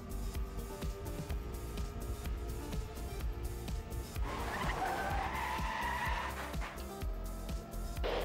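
Race car in a racing video game pulling into the pits: steady engine whine with tire skids and squeals, a loud screeching slide in the middle, continuous and close with no talk.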